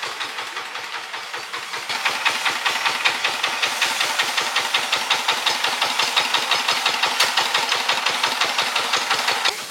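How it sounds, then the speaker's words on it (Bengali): A power tiller's single-cylinder engine chugs in a fast, even knocking rhythm, loud and close, steady for nearly ten seconds after a brief softer opening, with no voices over it. "ওই জন্য পাওয়ার টিলার এসছে,"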